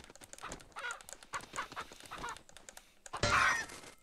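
A chicken in the horror video game Pacify squawks and clucks in scattered bursts amid clattering, ending in one louder, harsher squawk.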